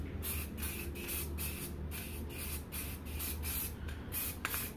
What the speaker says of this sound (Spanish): si no podemos poner vertical el aerosol funciona muchísimo mejor